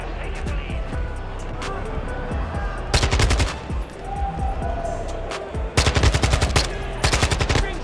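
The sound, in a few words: gunfire in a video game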